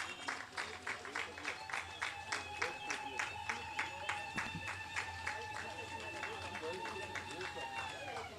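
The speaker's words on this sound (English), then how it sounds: "Can we clap our hands as they go?" A crowd at an outdoor launch event claps hands in a steady rhythmic beat, roughly two claps per second, fairly distant and faint beneath background murmur and a continuous tonal hum.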